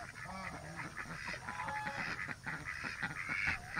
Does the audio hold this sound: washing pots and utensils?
no